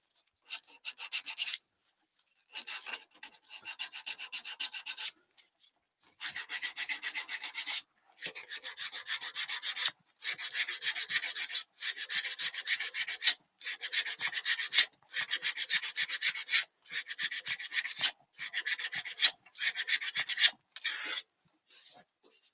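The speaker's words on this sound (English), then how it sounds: "Sandpaper." Sandpaper rasping against an olive wood jug vase spinning on a lathe, steady scratchy bursts broken by short pauses, close and alone without talk.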